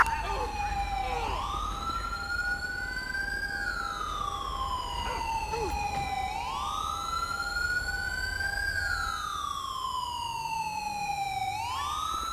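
Ambulance siren on a code 3 response in Grand Theft Auto V, a loud wailing tone rising and falling in long slow sweeps, running steadily throughout over a low rumbling engine bed.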